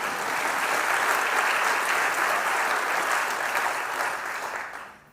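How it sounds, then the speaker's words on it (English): An audience at a county mayor's budget presentation breaks into steady, dense applause that carries at full strength for several seconds before tapering off at the end, with no talk over it. "let's give them a round of applause."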